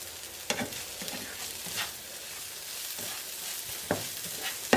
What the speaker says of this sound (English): we have our eggplant over there, sauteing away